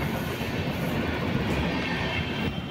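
A Chennai-bound passenger train rolls past a level crossing near Chottanikkara, giving a steady, loud, continuous rumble of wheels and carriages throughout, with no voices.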